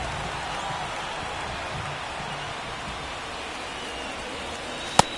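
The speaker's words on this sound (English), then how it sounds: "the field's not going to be able to hold up if the rain gets any worse than this" Rain falls steadily on a baseball field in MLB The Show 24 as a faint, even hiss, with a single sharp click near the end.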